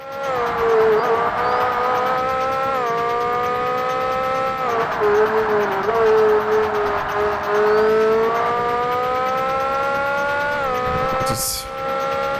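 Toyota GT1 race car engine in Forza Motorsport, a loud, steady high-pitched drone that climbs and drops through gear changes, with a brief hissing burst near the end.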